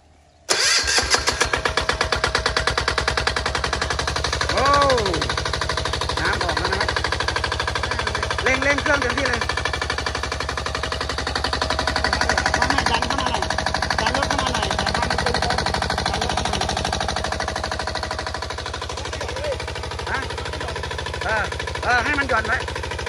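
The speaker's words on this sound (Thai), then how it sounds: "เครื่องสูบน้ำรถไถจิ๋วเดี๋ยวเราลองสูบน้ำกันนะครับ" Mini tractor engine driving a water pump starts up, then keeps running at a loud, steady rapid chugging throughout, with voices talking over it.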